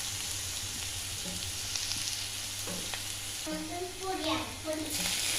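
Grated ginger tossed into onions already frying in a pan, a steady sizzle with faint stirring scrapes, close and continuous with a few soft clinks near the end.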